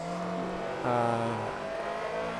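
A Honda Civic VTi in the racing game Forza Motorsport 3 drones under steady throttle, then its engine revs sharply higher for a moment before settling back, a loud buzzing tone held at close range.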